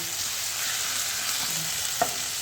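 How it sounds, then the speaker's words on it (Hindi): Green chili paste with turmeric and red chili powder fries in hot oil with a steady, close sizzle, broken by a soft stir and one brief sharp clink near the end. "तो इनको मैं हल्के से भूनूंगी चंद सेकंड के लिए"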